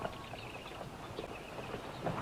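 Horses riding off in a Western film battle scene, hooves clip-clopping in a steady, fairly faint patter beneath a dense wash of background noise.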